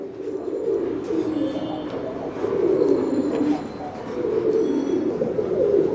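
Mookee pigeons coo in a loft, low rolling coos repeating continuously and close, with faint background chirps and some quiet voices.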